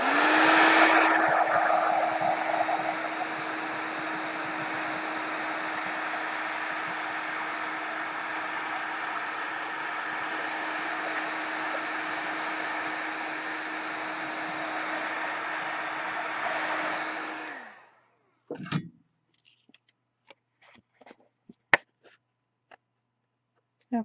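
A heat tool blasting while heat-setting a glittery gelato print background, a loud steady whooshing roar held for about eighteen seconds before cutting off, followed by faint scattered clicks and handling noises.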